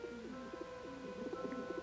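Pigeons cooing on rooftop tiles, soft repeated throaty coos in a loose rhythm, faint and somewhat distant over a steady low background hum.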